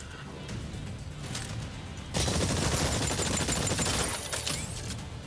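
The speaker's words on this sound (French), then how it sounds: "concentrez vos tirs sur les cibles éloignées." Rapid bursts of gunfire from a shooting exercise in the video game Exoprimal, dense and continuous, growing louder and harsher partway through with layered impacts.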